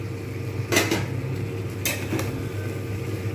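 Pieces of boiled young jackfruit are tipped into a cooking pan for a jackfruit and prawn dish, making two clattering bursts of metal and food over a steady low hum.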